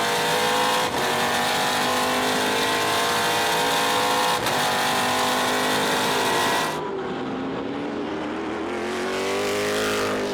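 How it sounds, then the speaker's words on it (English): A Trans Am race car roars at the Portland race, recorded onboard: a loud, sustained engine note climbs through the gears, then drops to a lower, steadier drone near the end. "Now on board with Kyle Kelly"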